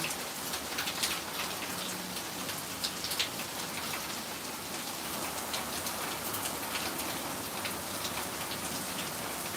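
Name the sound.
heavy rain running off gutters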